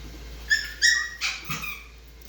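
A long-coat chihuahua barks in short, high-pitched yaps, four quick barks spaced apart, close by with no talking.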